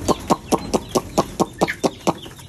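Hens clucking in a steady, evenly spaced rhythm, about a dozen short clucks in quick succession, close by and clear.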